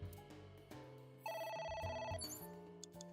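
A telephone rings in the video game AI: The Somnium Files, a bright electronic trill that starts partway through over quiet game music and cuts off before a few soft clicks.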